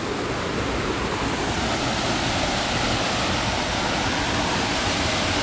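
Edralin Falls roars with rushing water in a loud, constant, dense wash of noise, steady from start to finish with no voices over it.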